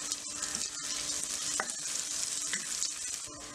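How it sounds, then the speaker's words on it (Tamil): Onion, cumin and green chili frying in a spoonful of oil, a steady close crackling sizzle with a few faint clinks of stirring, no voices. "ஒரு ஸ்பூன் ஆயில் ஊற்றிருக்கேன், அரை டீஸ்பூன் ஜீரகம், பெரிய வெங்காயம்"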